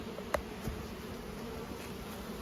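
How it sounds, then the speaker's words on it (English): Honey bees buzz at the hive entrance, returning with fresh pollen during a strong pollen flow; a faint, steady low hum of many wings with a sharp tick near the start and no talk. "We've got lots of bees coming in with fresh pollen"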